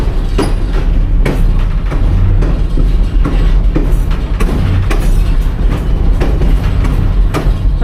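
A Reading & Northern passenger train running on rails, heard close and loud from onboard as a continuous low rumble with rhythmic clicking of wheels over rail joints and no voices.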